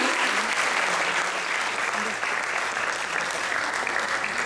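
Audience applause at a prize distribution for the first-place winner in a classical vocal category, a dense steady wash of many hands clapping that holds evenly for several seconds, fairly loud and close.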